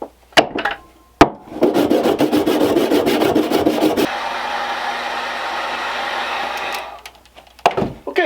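Handsaw cutting the head off a wooden nutcracker figure, a few sharp knocks first, then a sustained fast rhythmic rasp of strokes that smooths into steady grinding before stopping, close and loud.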